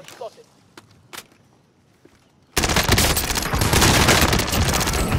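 PPSh submachine gun firing in a video game, a sudden loud sustained burst of rapid automatic fire after a quiet stretch of faint footsteps and clicks, close and dense.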